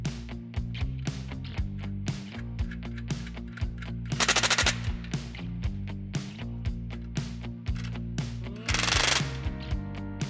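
Rapid mechanical rattling from a power tool tightening flange locking nuts onto carriage bolts with a 3/8 socket while assembling a rack, heard as a steady rhythmic hammering with two brief louder bursts, close and without talk.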